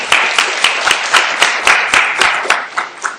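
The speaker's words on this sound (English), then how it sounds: "I think you deserve another round of applause for that job of rolling." Clapping from a small audience at a public space science talk, loud and close with a regular beat of sharp claps roughly four per second, tailing off toward the end.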